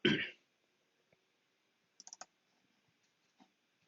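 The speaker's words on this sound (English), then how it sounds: "And double click on that." A computer mouse clicks quietly in a COMSOL simulation session: a quick cluster of light clicks in the middle, a few isolated soft taps, and a short burst of noise at the start.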